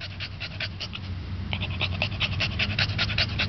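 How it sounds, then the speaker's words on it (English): A cocker spaniel pants rapidly and rhythmically in a garden, close to the microphone, with quick, regular breaths throughout. "This is Jack breathing in the garden."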